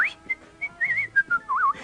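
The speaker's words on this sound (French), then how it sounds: "il sifflote gaiement" Cheerful whistled tune by a person, a short melodic phrase of several bright, close notes rising and falling, heard alone.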